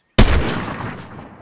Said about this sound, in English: I gotta get a sniper shot off